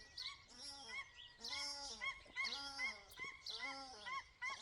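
Repeated honking paradise shelduck calls, several harsh calls in quick uneven bursts, clear and fairly close in a quiet outdoor setting.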